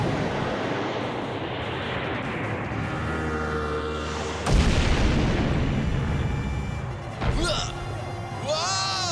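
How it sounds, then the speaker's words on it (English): A torpedo launches and detonates in an animated cartoon, a sharp booming blast bursting in midway over a busy, loud underwater soundtrack, followed by rumbling and a few high whooshing sweeps. "Fire, Torpedo One!"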